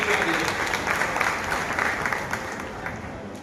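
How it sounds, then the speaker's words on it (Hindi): An audience at a district seminar in Gajraula gives a steady, dense round of clapping, filling the room for the whole stretch. "जोरदार तालियां बजाकर के उनका स्वागत कीजिए"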